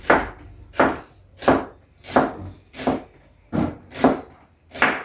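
A knife cuts lengthwise through an onion, head to root, in eight evenly spaced chops on a board, close and crisp, with no one talking.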